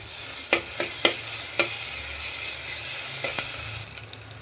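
Ginger-garlic paste frying in a pan with steady sizzling, broken by several sharp clinks as it is stirred, close and moderately loud with no talking.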